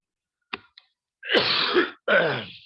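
A couple of short throaty clicks, then two long, rough, forceful coughing bursts close up, with no talking.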